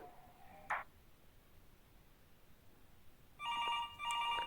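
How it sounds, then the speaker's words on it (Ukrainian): A telephone rings in the horror game Five Nights At Patron's: after a near-silent stretch with one brief blip, two loud, clear bursts of ringing arrive close together at the end. "До нас далі той чувак дзвонить."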